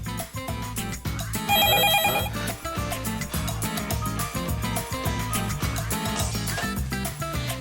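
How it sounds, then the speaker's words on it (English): Ringback on an outgoing phone call: a repeating, rhythmic ringing tone plays steadily and fairly loud, with a musical pulse and no one speaking. "It's ringing."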